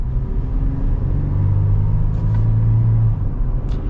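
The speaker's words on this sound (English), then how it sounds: "I'll just downshift a couple of times, and we'll get another little acceleration" A 2021 Toyota 4Runner Venture accelerates after a manual downshift, its engine a loud, steady interior rumble with a rising drone, heard close and without talk.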